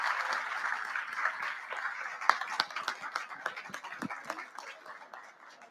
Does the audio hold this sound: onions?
no